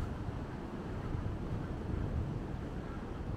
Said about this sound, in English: as you can hear, it's windy up here